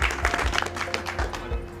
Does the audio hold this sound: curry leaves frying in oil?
no